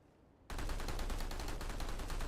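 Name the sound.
gunfire in video game PlanetSide 2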